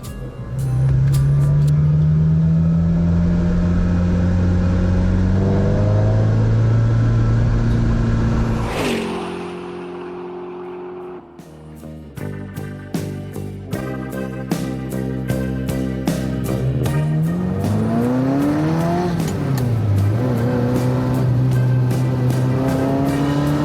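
A Ferrari 348 TB mid-engine sports car hums steadily, then briefly cuts out before revving again through gear changes, rising and falling in pitch as it accelerates.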